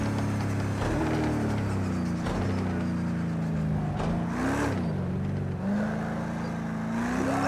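A GTE race car in Project Cars 2 accelerating hard, its engine note climbing through the gears with a loud, continuous whining drone and repeated rises and dips in pitch as it shifts.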